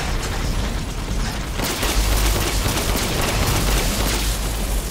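Heavy gunfire in Resident Evil Village, a dense, continuous loud roar of shots and booms with a sharp surge about midway, filling the whole stretch without a pause.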